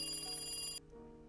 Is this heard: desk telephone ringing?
yes